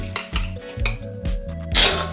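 Cooked amaranth-leaf and moong dal, thotakura pesarapappu, being scooped from a pot into a bowl: repeated scraping and clinking of a ladle against metal, with dish and cutlery knocks at a steady rhythm. The sound is close and moderately loud, with no speech.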